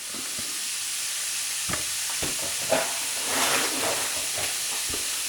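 Food frying in a pan while preparing slow cooker chili, heard as a soft, steady sizzle with a few sharp clicks and clinks of utensils against the pan.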